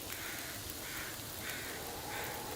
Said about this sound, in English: Ooh, my crows have arrived.